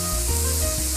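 Onions sautéing in a hot pan for a Kerala Christmas dish, giving a steady, close, dense sizzle with a faint hum underneath and no talk.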